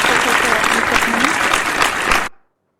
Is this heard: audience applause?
yes